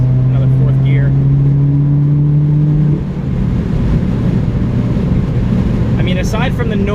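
A 2016 Subaru WRX with a Grimmspeed catted J-pipe and Greddy SP exhaust cruising in fourth gear, a loud droning engine tone that drops off midway into a rougher rumble with wind noise, heard from inside the car.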